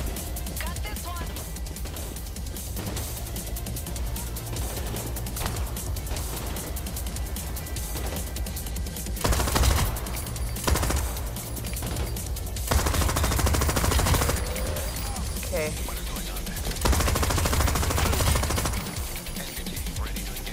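Gunfire fills a heist shootout in the video game Crime Boss Rockay City, with rapid machine-gun bursts and scattered shots crackling throughout, growing denser at moments, while players talk over the fighting.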